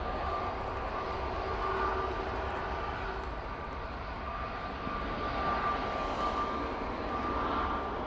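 A Jet2 Airbus A320neo airliner at windy Manchester Airport gives a steady, moderately distant engine roar with a faint whining tone, sustained evenly under wind noise.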